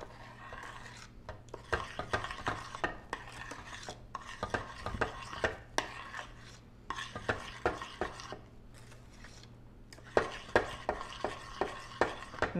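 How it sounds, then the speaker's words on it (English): A spoon stirs flour into thick brownie batter in a bowl, producing rhythmic scraping and knocking strokes in bursts separated by short pauses, close and fairly loud. "Stir that up."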